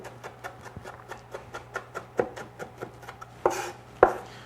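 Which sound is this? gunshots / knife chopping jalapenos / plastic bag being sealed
knife chopping jalapenos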